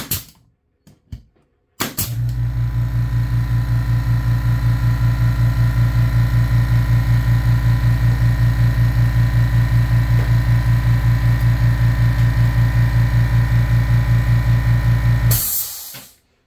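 A Makita MAC210Q quiet-series air compressor with a 2-gallon tank starts after a couple of clicks and runs steadily for about fourteen seconds. It makes a loud, even motor drone with a low, regular pulsing hum, then cuts off with a brief hiss.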